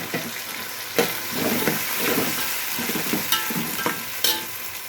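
Vegetable pieces frying with ginger garlic paste in a pan, a steady sizzle broken by irregular stirring scrapes and clatters, close and clear.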